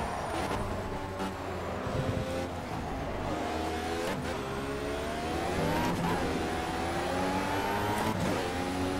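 Lotus 98T Formula One race car in a racing video game at Hockenheimring, its engine screaming steadily at high speed with rising and falling revs through gear changes, loud and continuous throughout.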